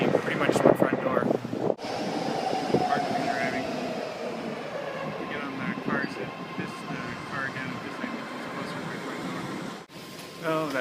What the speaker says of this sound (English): now we get on the BART, and the BART will take me pretty much to the front door